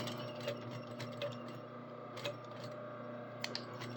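A sewing machine back stitches a collar seam with a half-inch allowance, giving a steady, faint mechanical whir with light ticking clicks throughout.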